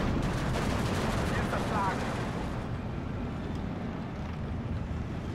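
Dense World War II battlefield fire in Steel Division 2, a continuous rattling wash of gunshots and bombardment that stays steady and heavy, easing slightly toward the end.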